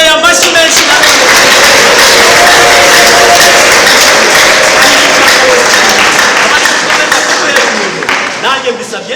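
A church congregation gives loud, sustained applause as a pastor blesses a newlywed couple, dense close clapping that holds steady and then thins toward the end.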